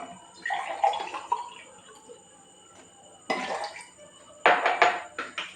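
Cold water from the fridge poured from a glass into a mixer grinder jar, several short splashing pours with gaps between them, close and fairly clear.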